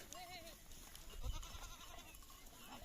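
Black hair goats bleat on a livestock farm, several faint wavering calls over outdoor background noise, with people talking nearby.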